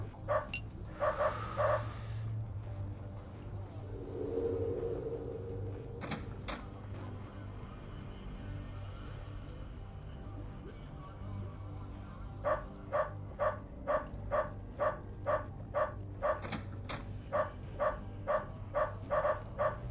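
Dogs in the video game Underrail bark in a regular run of sharp, evenly spaced yaps over a low game ambience, with an earlier burst of barks near the start.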